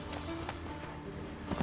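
Horse hooves clip-clop in The Witcher 3, a steady patter of game hoofbeats under a dense, loud wash of ambient game sound, with no speech over it.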